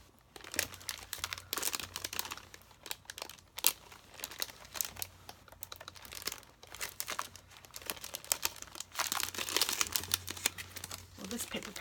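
Paper pages from a crafting paper pack of cutouts being flipped and shuffled close up, with repeated crinkling and rustling bursts at an uneven pace.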